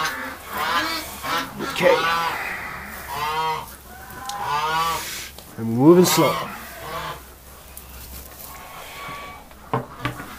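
Geese honk and call inside a goose shed, several loud nasal cries close by with quieter murmuring between, while a person speaks softly over them.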